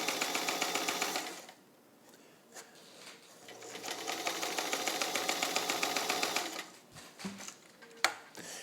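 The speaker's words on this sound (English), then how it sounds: "I'll do a little stitching for you" A vintage pink all-steel Brother Atlas sewing machine stitches at a long stitch length, a steady, fairly quiet rapid needle chatter in two runs with a short pause between, ending in a few sharp clicks.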